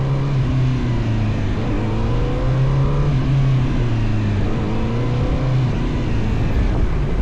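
A CFmoto 500SR motorcycle accelerates on a large open test-ride ground in Hangzhou, its loud engine droning steadily with rising and falling pitch sweeps as the throttle is worked, mixed with wind rush.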